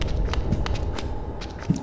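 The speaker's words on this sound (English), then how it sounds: "I hear, like, footsteps" Soft footsteps of a small character in the Hollow Knight video game, a steady run of light patters over a low rumbling background hum, with occasional brighter taps.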